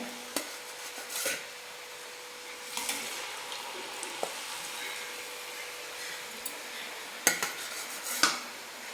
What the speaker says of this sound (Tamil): இந்த மாதிரி முறுக்கையெல்லாம் எடுத்து எண்ணெயில் சேர்த்தலாம் பாருங்கள்